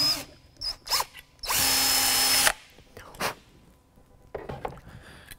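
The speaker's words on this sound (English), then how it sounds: "Grab your power drill with the 1/8 inch drill bit." Power drill with a 1/8 inch bit boring out the ashtray door tab on a 1987-1993 Fox Body Mustang, one loud steady whirring burst of about a second, framed by lighter handling clicks and rustles.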